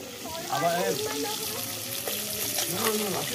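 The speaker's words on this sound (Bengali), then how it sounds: "মাছগুলো ভাজা হয়ে গেছে" Steady sizzling and crackling of koi fish (climbing perch) frying in hot oil, close by, with a person talking over it.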